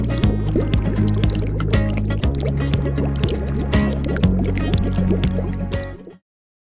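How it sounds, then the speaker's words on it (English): Water pours into a glass, then ice cubes drop in and the water splashes over the rim. A continuous close gurgling fill is dotted with drips and plops, then stops abruptly near the end. "A glass is filled with water. Frozen ice cubes are dropped in and water splashes out over the top."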